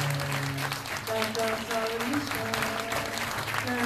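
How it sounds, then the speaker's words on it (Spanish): An audience at a poetry event applauds steadily with dense, even clapping throughout, while voices and a tonal sound carry faintly over it at a moderate distance. "¡Fuerte el aplauso!"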